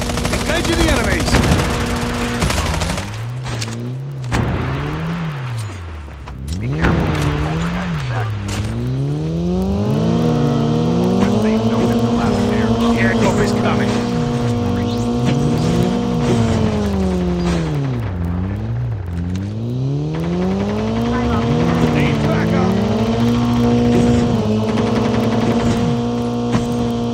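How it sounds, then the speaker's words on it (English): Vehicle engines rev and shift pitch in a shooter video game, rising and falling as enemy vehicles drive nearby, with bursts of gunfire and game effects layered throughout, loud and continuous. "Enemy vehicles near."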